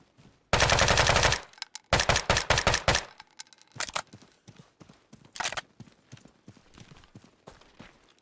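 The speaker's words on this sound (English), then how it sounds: "I just want to shoot things with the guns." Rapid bursts of automatic gunfire from firearms in the Deadside survival shooter, a long loud volley followed by a second burst, then scattered single shots and clatter trailing off.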